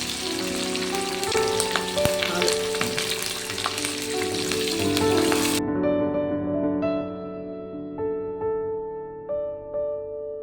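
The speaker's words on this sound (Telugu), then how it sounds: "పచ్చిమిర్చి, కరివేపాకు కొంచెం దూరగా ఫ్రై అయిన తర్వాత" Green chillies and curry leaves fry in hot oil for a broad bean and tomato curry, giving a steady close sizzle that cuts off abruptly halfway, leaving soft tonal background sounds.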